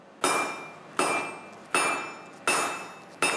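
Five ringing hammer strikes on metal at a forging anvil, evenly spaced about once per second, each a sharp bright clang that decays slowly, close and alone with no talk.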